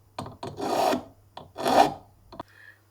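A silver jewelry pendant is sanded by hand with sandpaper, giving a few short, dry rasping strokes mixed with two longer scratchy rubs, close and fairly quiet, with no voices.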